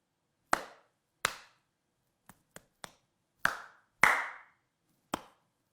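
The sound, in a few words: hands clapping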